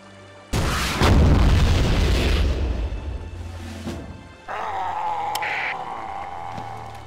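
A tank explodes in the World War II shooter Blade of Agony: a sudden loud boom with a broad, rumbling blast that fades over several seconds, followed by a lingering crackle and hiss of debris.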